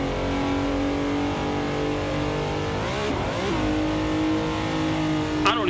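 A Ferrari engine in the Assetto Corsa racing game drones at steady revs, then sweeps up and down through quick throttle blips before settling again, loud and continuous with a short sharp sound near the end.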